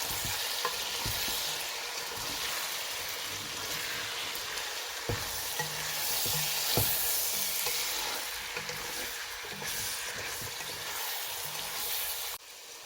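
Yam and beef ragout with vegetables, thyme, bay leaves and chili sautéing in a covered pot, a steady broadband sizzle with occasional stirring clicks and knocks running throughout, fairly loud and close.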